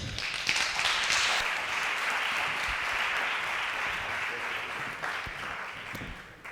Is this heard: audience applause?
yes